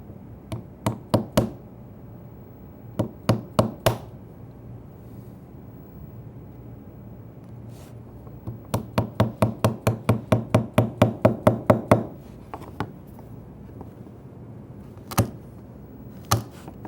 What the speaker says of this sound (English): just connect the dots with a narrow chisel that'll fit in the dado